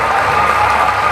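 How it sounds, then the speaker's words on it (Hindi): A crowd at a Pakistani literature festival gives a brief, loud burst of dense, continuous applause. "तालियां भरपूर होनी चाहिए।"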